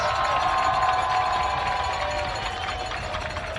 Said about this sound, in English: Let's have a round of applause to these seniors.